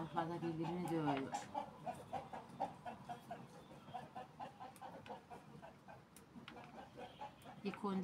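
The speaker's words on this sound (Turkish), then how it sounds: "Tavuklar da birbirini dövüyor." Chickens fighting each other in a rural yard give repeated clucks and squawks, fairly faint and mixed with ambient noise and a person talking nearby.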